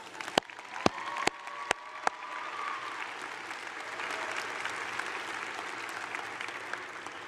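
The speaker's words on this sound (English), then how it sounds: "I think that deserves a quick clap." An audience at an awards ceremony breaks into steady applause, opening with a few sharp, distinct claps before settling into a dense, continuous wash of many hands.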